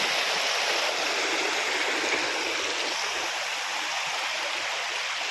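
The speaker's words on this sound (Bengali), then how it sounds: "এদিকটা তো ওই উপর দিকে জল বহে বহে নামছে" Monsoon floodwater pours down past a breached embankment in rural Purulia, making a continuous broadband rush of flowing water, steady and fairly loud, with no voices.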